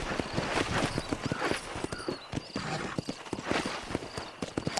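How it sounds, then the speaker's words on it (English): Horse hooves clip-clopping at a walk in the video game Red Dead Redemption on PS5, a steady rhythmic run of close, crisp footfalls with no talking. "Alright, I'll stick with my regular horse."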